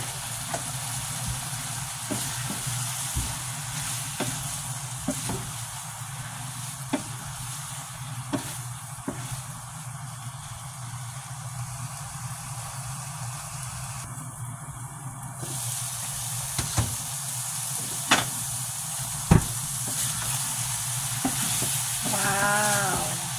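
An egg frying in a pan with shrimp, a steady sizzle running throughout with scattered light clicks and taps of a utensil, no talking.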